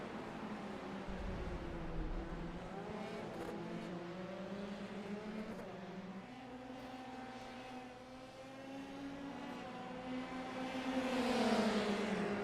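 Formula 3 sim racing cars in a video game climb single file through Eau Rouge at Spa, engines droning steadily with overlapping pitches that rise and fall as the cars close up, swelling louder toward the end.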